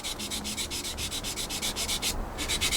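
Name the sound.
sanding seam lines on Tamiya Spitfire scale model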